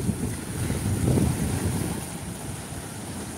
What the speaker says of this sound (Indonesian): Ayo ombak datang.